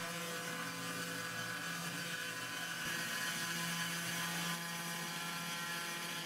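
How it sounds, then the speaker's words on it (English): A DIY CNC machine driven by a 100 W router motor cuts 4 mm poplar plywood, giving a steady, continuous mechanical whir with a grinding, rasping texture that holds level for several seconds without talk. "The 4mm poplar is cut easily with my 100 watts router motor."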